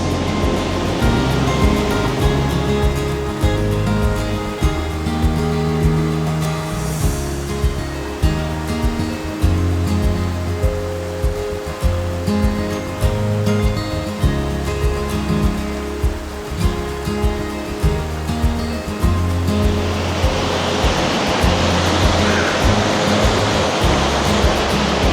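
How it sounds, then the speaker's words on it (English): Fast, cold South Boulder Creek at Walker Ranch rushes over its mountain bed in a steady, loud, close roar of churning water that never lets up. "without sliding off into the creek, because it's moving very quickly and it looks very cold"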